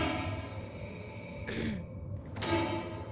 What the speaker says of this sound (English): There's the sound of breathing too.